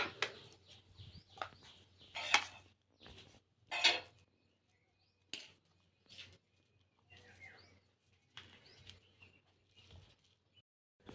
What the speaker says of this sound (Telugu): మామిడికాయ చెక్కు తీసిన తర్వాత ఇలా తురుముకోవాలి